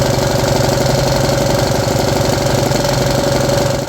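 A small 3D printed engine with a misadjusted idle screw runs at high revs, a loud, steady buzzing drone with rapid knocking pulses, sustained without pause and alone.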